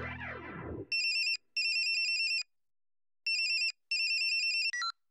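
A mobile phone plays an electronic ringtone for an incoming call, sounding in repeated clipped bursts with short gaps, after a brief swooping sound at the start.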